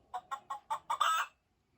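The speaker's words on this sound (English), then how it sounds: "The hen lays eggs for the farmer." A farm hen clucks five times in an even rhythm, and the last cluck is drawn out into a longer cackle. The hen is close and clear against a quiet background.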